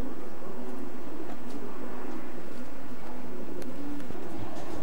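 Racing pigeons in a large 48-by-10 loft split into sections for widowed cocks and young birds, giving a steady low murmur of cooing that runs throughout over a faint roomy background hiss.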